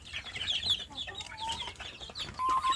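Young kampung chicks cluck and peep busily while competing for food, a dense overlapping chorus of small chirps close by with a few longer, clearer calls standing out.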